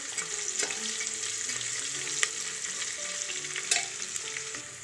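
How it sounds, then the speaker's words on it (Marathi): A pinch of asafoetida sautéing in hot oil for masala rice, with a steady crackling sizzle and a few sharp utensil clicks, close by and even in level. "आता यामध्ये चिमूटभर हिंग टाकू, थोडंसं परतू"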